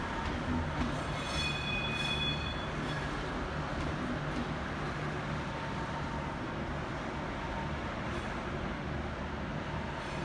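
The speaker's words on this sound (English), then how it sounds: "Here we see a commuter train pulling in." A commuter train rumbles steadily into a station in New South Wales, Australia, with a low continuous roar and brief high wheel squeals, heard from nearby with no talking.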